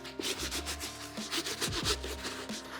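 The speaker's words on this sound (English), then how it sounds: "So the stiff bristle, that will clean the bottoms pretty well." A stiff bristle brush scrubs the soles of sneakers in quick, rhythmic back-and-forth strokes, close and fairly loud, with a scratchy rasping texture and no talking.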